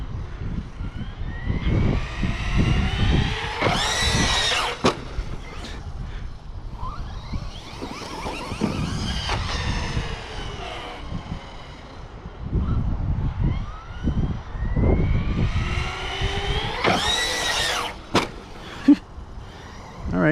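A Traxxas Hoss 4x4 RC truck with a Castle ESC and 18T pinion drives outdoors, its electric motor whining up in rising pitch sweeps, fading between bursts, then whining again, with a few sharp knocks and clatters.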